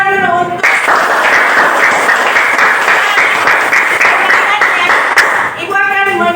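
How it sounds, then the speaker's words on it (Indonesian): Classroom students clapping and applauding together in a sustained, dense burst lasting several seconds, loud and close, bracketed by a teacher's voice speaking before and after. "Tepuk tangan dulu untuk"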